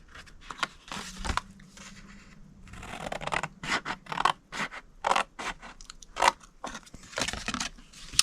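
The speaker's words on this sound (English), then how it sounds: "cut it to the second score line" Scissors snip through scored card stock for a Christmas treat box, a series of crisp close cuts in irregular bursts separated by brief scraping and handling noises.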